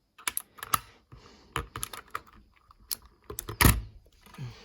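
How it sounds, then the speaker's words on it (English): Keycaps being pried off a mechanical keyboard with its bundled keycap remover, ABS plastic caps giving sharp irregular clicks and clacks close up, quiet between bursts. "This is the keycap remover it comes with. So let's just remove the plus and equal key."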